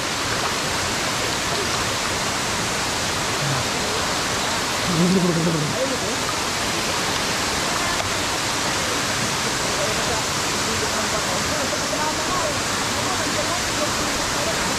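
Bolinao Falls waterfall in Pangasinan roaring continuously and nearby as a dense, steady rush of falling water, with a brief voice rising over it partway through.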